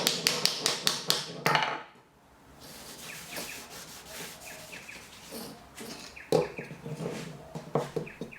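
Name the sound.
hammer tapping kumiko wood pieces into mortises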